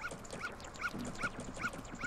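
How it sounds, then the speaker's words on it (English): A dog in The Legend of Zelda: Majora's Mask gives short, evenly spaced yips and whimpers, faint and repeated every half second over a soft game background, with no talking. "Hi, dog!"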